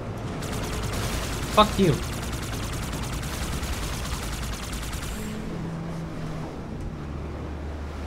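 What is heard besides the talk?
gunfire in the video game Halo 2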